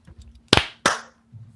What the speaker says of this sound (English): If we're ready, then let's clap it up in 3,